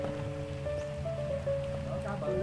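Rain falling outdoors during cast-net fishing for mullet and tilapia in the Mekong Delta, a steady even hiss of drops continuing throughout under faint background tones.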